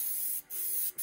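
Short bursts of aerosol spray paint applying camouflage to a Revell 1/72 Type VII C model submarine: a close, steady hiss broken by two brief pauses between passes.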